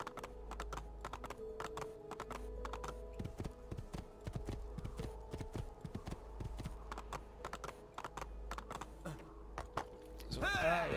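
Rapid clip-clop of horse hooves in Assassin's Creed 2 taps along in a steady stream, with sharp percussive clicks over a low hum and occasional murmured German speech.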